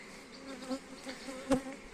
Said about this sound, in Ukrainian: Бджола